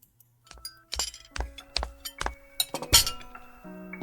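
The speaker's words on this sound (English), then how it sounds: "I could hear the clatter of glass and the squeaky floorboards." Glass clatters and clinks in the video game Tiny Bunny, a series of bright, ringing taps and chinks in irregular bursts, close and clear with no talk.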